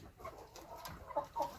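Soft, scattered clucks from a few hens in a coop on a ranch, quiet and close by, with low shuffling in the background.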